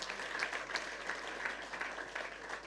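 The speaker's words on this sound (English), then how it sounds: "A round of applause for yourself." An audience at a youth entrepreneurship and leadership event in Ghana gives a short burst of dense, even applause, many hands clapping at moderate distance.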